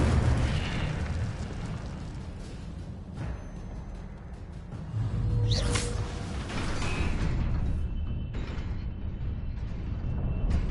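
An Incendio fire spell in Hogwarts Legacy, a loud rushing burst of flame with rumbling booms and crackling over continuous game ambience, swelling again in the second half.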